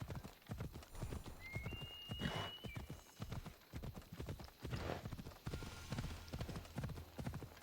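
Horse hooves in the video game Assassin's Creed Odyssey clatter in a steady, rapid galloping rhythm, close and clear throughout, with a brief neigh-like tone early on.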